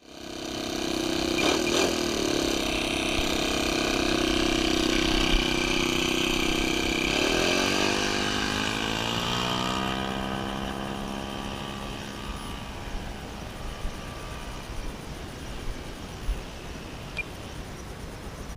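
An RC plane with an OS 95 four-stroke engine takes off: a loud, steady engine drone rises and holds, then its pitch sweeps downward and fades into the distance as it climbs away.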